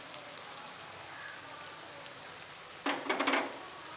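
Ginger garlic paste fries in a pan with a low, steady sizzle that swells near the end into a brief louder burst of crackling and stirring.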